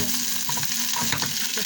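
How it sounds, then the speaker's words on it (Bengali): Drumstick pieces and potato frying in an oil-filled pan, a steady close sizzle with light scraping and stirring clicks throughout. "আমার সজনটা আলুটা ভাজা ভাজা হয়ে যাচ্ছে"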